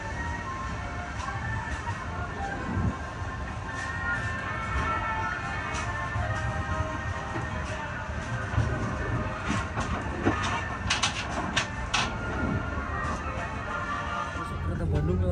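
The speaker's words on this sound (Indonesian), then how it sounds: "Kereta Bandung lewat ini langsung." Bandung-bound train passing on a railway in Java, heard from aboard another train: steady clickety-clack of wheels over rail joints with bursts of metallic clatter, a continuous rumble, and people talking beneath it.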